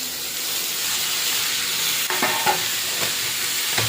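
Chopped vegetables sizzle steadily in hot oil on an induction cooktop, a continuous close frying hiss with a few brief scraping stirs near the end; no one speaks.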